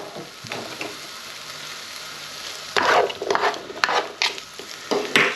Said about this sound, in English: So the first thing we need to do is just kind of cook off these onions and tomatoes.